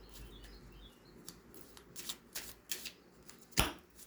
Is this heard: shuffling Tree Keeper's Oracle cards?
yes